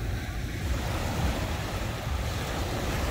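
Ocean surf at Long Beach, California rolls in as a continuous broadband wash, steady and moderately loud with wind rumble against the microphone and no voices.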